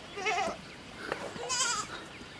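A goat in a pen bleats twice in quick succession, close and clear, each call a wavering nasal cry.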